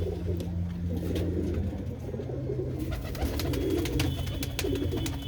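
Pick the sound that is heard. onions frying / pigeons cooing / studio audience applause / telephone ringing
pigeons cooing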